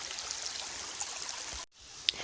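Creek water flowing over a rock pile in the woods, making a soft, steady hiss and trickle. It drops out briefly near the end, then returns.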